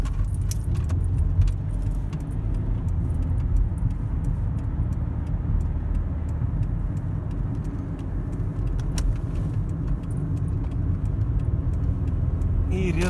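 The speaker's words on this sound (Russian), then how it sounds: "разгонюсь до 80." A Lexus RX running on LPG accelerates to about 80 km/h, heard from inside the cabin as a low, steady road and engine rumble with rattling and ticking, and someone speaking over it.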